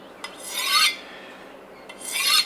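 A Busse knife's steel blade is drawn across a smooth sharpening stone in two long, gritty rasping strokes with a pause between them. The strokes are close and clear, with no talking.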